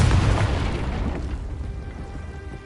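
A Confringo blasting spell detonates in a wizard video game, a loud booming explosion with heavy low rumble at the start that decays into a fading, crackling tail over a couple of seconds.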